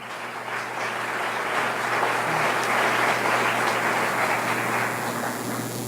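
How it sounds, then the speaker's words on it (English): Sustained audience applause at a Stockton State of the City address, a dense crowd of clapping that swells and holds steady for several seconds, loud and unbroken, with no speech over it. "and they deserve a round of applause."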